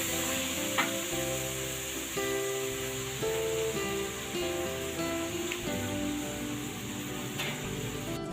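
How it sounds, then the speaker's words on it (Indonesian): Gulai kikil with beef cooking in a frying pan, a steady close sizzle and bubbling with soft scraping of a spoon stirring through the mixture, no talking. "Kita aduk-aduk sebentar."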